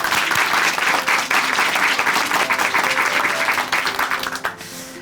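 Audience applause in a church program, a dense, steady clapping from a congregation that holds for several seconds before tapering toward the end.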